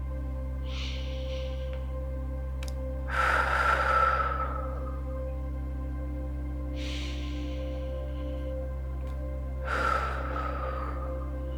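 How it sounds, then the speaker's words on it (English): Slow deep breaths during a yoga quad stretch in a quiet home session, three soft inhale-exhale bursts spaced several seconds apart, close and gentle over a low steady hum. "Couple deep breaths here."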